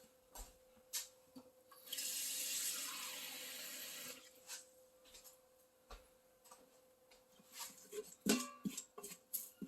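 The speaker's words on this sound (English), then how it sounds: "So now you're going to get yourself a little bit of water to add into it." Water pours from a kitchen tap for about two seconds, making a short hissing burst. It is surrounded by light clicks and knocks as water is gathered to add to a duck curry in an Instant Pot.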